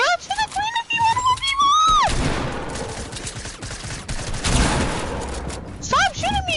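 Video game gunfire, a dense burst of rapid shots in the middle stretch, loud and close, framed by a high shouting voice before and after it.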